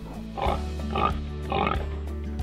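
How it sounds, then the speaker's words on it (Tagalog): Three rhythmic grunting oinks from a pig, evenly spaced over a steady low hum, fairly close and moderately loud. "Ang tugon ni Koy Baboy."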